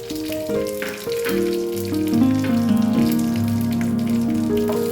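Panch phoron spices with dried chillies and bay leaves frying in oil for shukto: a light sizzle and patter sitting under a prominent sustained tonal hum that shifts in pitch, close-up and without speech.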